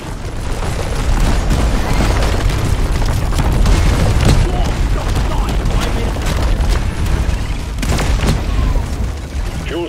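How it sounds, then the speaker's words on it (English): A sticky grenade goes off in Deep Rock Galactic during an Elite Deep Dive, a blunt boom buried in continuous, loud gunfire and mechanical combat clatter from the Engineer's fight against bug swarms. "Sticky grenade!"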